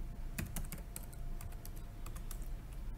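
Typing on a computer keyboard while entering text into spreadsheet cells, a close run of light quick key clicks in an irregular rhythm, with no talk.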